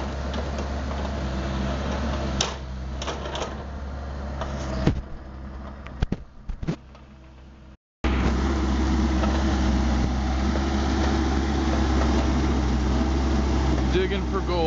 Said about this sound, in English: He gets to use the tractor.